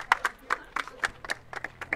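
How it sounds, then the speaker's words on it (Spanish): A small audience at a presentation claps sparsely, roughly a dozen separate hand claps landing in an uneven, scattered rhythm, near and crisp with quiet gaps between them. "un aplauso para ella"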